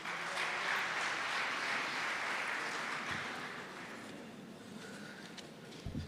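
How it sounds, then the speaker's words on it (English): A round of applause for the presenters at a school governing body imbizo: dense, steady clapping from a crowd, sustained for several seconds and tapering slightly toward the end. "She's another round of applause for all the presenters"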